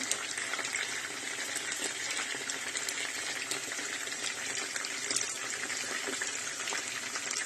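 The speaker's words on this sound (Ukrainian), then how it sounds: "Зараз ми додамо туди соєво-медовий соус так." Soy-honey sauce pours steadily into a pan of browned chicken wings, a continuous liquid gush with a faint sizzle throughout, close and moderately loud with no talking.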